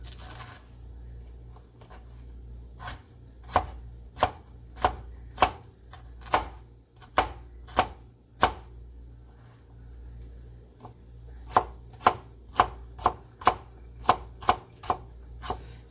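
A knife chops green onions into small pieces on a board, crisp sharp taps in irregular bursts, a few at first, then quicker runs, close and alone with no talk.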